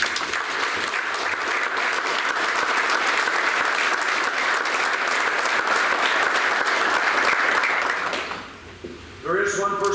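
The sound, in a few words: audience applause for coaches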